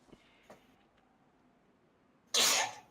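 A single sharp sneeze bursts out close and loud near the end, after a quiet stretch with a couple of faint clicks.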